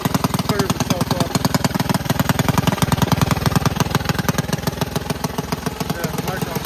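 An alcohol-powered racing go-kart engine runs rough and loud, a steady fast chugging, knocking idle that carries through the whole stretch with no letup.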